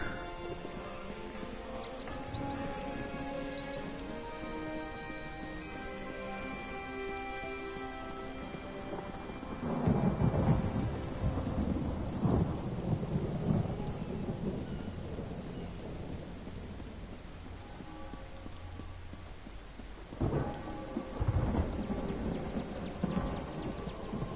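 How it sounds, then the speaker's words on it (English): Thunder and steady rain in the video game Elder Scrolls Online: a soft, constant rain hiss with two deep rolling thunder rumbles, one near the middle and another toward the end, faint and with no talking. "Seems to be thunder in the air."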